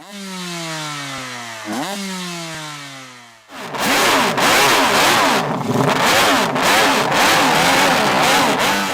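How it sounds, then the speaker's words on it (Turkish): A motorcycle engine revs hard, its pitch climbing and dropping in sweeps, then a louder, harsher engine roars at high revs with rapid throttle changes. "hayvan gibi devir çeviren motosikletleri anlatacağım"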